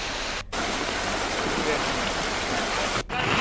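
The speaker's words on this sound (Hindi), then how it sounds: "यहाँ पर आधे घंटे से जो बारिश हो रही है" Heavy rain pours down in Jagdalpur city as a dense, steady hiss of falling water that fills the whole stretch, with two very brief dips where the sound cuts out.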